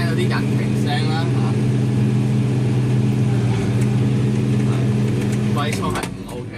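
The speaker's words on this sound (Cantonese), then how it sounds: "你會聽到啲引擎聲啦" A tractor is driven in France, its engine humming steadily with a low drone while people talk over it, and the engine eases off slightly at the end.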